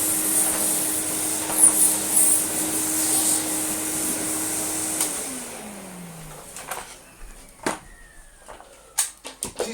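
Electrolux Slimline 185 Electronic vacuum cleaner, restored and running at about 500 watts, a steady whining hum that winds down partway through, followed by scattered clicks and knocks as it falls quiet.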